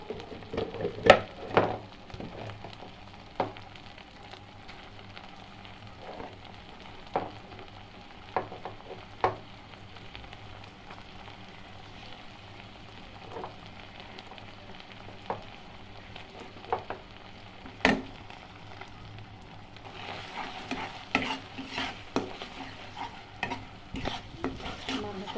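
Garlic and ginger paste fries in a pan, a steady low sizzle broken by scattered sharp scrapes and taps of a stirring spoon, growing brighter and louder near the end.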